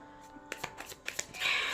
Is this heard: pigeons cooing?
no